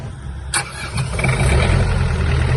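The diesel engine of a Mitsubishi MT-26 Japanese mini tractor cranks with a sharp click, then catches and settles into a steady, loud, rumbling idle close by.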